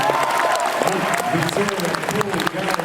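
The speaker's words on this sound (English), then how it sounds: "Can we have a huge round of applause for the fantastic" An audience at a San Diego Comic-Con panel for Assassin's Creed Syndicate gives steady, dense applause, a continuous wash of clapping that runs beneath a speaker talking over a microphone.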